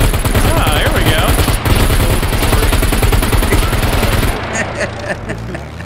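Rapid bursts of aircraft machine-gun fire from a strafing run at a dogfight event ring out loud and continuous for about four seconds, then cut off abruptly and leave quieter scattered sounds behind.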